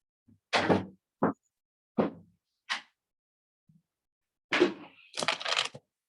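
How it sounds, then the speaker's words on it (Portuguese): A door is pushed shut in a few separate knocks and clicks, with a louder thud and rattle near the end as it settles closed; quiet gaps fall between the sounds. "Deixa eu só encostar a porta aqui rapidinho."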